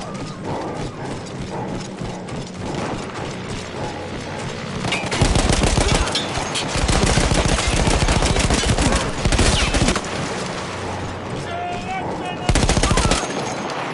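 Machine gun fire from the Battlefield 1 video game, a gun emplacement once manned by Austro-Hungarian troops, comes as loud sustained bursts of rapid shots with a mechanical rattle, set among quieter stretches of battle noise.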